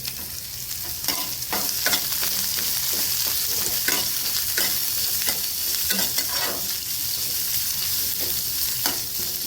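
Sliced onion and green chillies fry in a pan, a steady sizzle broken by repeated scraping and stirring strokes, close and fairly loud with no talk.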